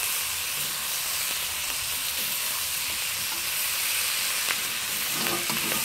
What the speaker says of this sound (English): Let's just stir fry our lamb with our vegetables